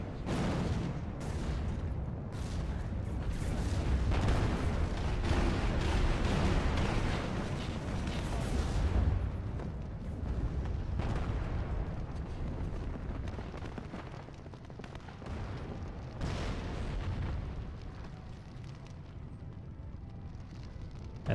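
Bombs dropped by bombers explode in the WARNO Halo mod real-time strategy game, a dense, continuous roll of heavy rumbling blasts with sharper bursts layered on top.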